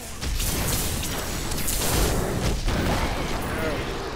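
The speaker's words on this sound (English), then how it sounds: "Get away from the explosions." Explosions in the video game Diablo 3 during a Tal Rasha set dungeon run, a dense burst of booming blasts and crackling debris layered over continuous game effects, loud and close.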